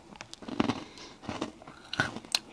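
Maltesers chocolate balls are bitten and crunched close up, a few sharp crisp crunches spread over a couple of seconds with soft chewing between, no talk.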